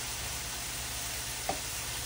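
Kerrygold butter hits hot frying meat with a steady, close sizzle that stays even throughout, broken by one brief pop near the end.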